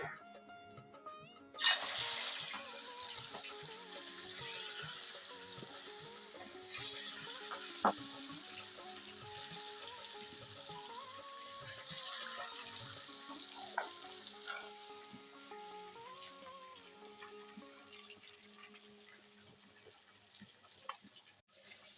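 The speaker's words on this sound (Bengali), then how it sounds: "তেলটা গরম হয়ে গেছে এখন মাছগুলো দিয়ে দিচ্ছি" Katla fish pieces dropped into hot mustard oil in a pan, setting off a sudden sizzle that settles into a steady, quiet frying hiss, with faint melodic sound behind it.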